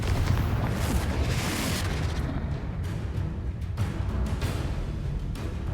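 A blasting curse explodes in the Hogwarts Legacy video game, a continuous loud booming roar with crackling bursts that stays dense and heavy across the whole stretch.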